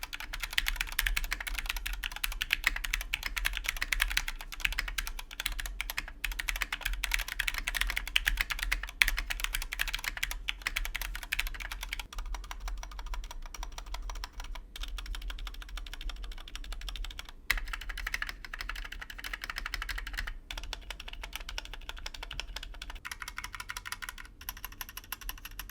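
Rapid typing clatters on a mechanical keyboard fitted with XDA profile keycaps in a case with no internal dampening, a dense, close, continuous run of keystrokes with brief pauses and no talk.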